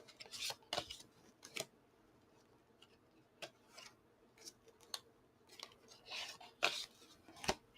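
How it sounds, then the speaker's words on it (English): Tarot cards shuffled and riffled in short, crisp bursts with quiet pauses between, close by and fairly soft. "let me shuffle some cards for you, Maurice."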